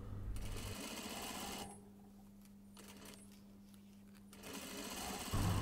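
A sewing machine stitches a cashmere jacket, its quiet, close mechanical whir running in two bursts with a short pause between them.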